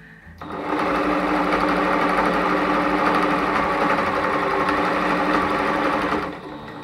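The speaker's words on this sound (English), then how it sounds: "So you sew a couple stitches and then you back stitch it a little." A sewing machine runs a steady, loud burst of stitching, sewing forward and then back-stitching on a thrift-store home decor piece. It starts after a short pause and stops cleanly after about six seconds, with no talking.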